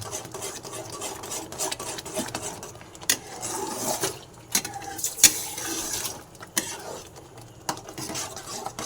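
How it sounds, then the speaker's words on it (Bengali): Semolina cooked in milk in a wok, stirred continuously with repeated scraping and occasional clinks of the utensil against the metal, fairly close. "এইভাবে আমার পুরো নেড়ে যেতে হবে, পুরো দুধটা আমার পুরো শুকিয়ে যাবে।"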